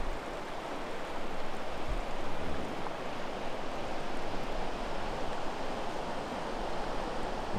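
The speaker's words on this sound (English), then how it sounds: "Anyway, there's the river." A river rushing steadily during a July trip in Aurland, a broad continuous wash of flowing water that stays even and moderately loud throughout, with no voices.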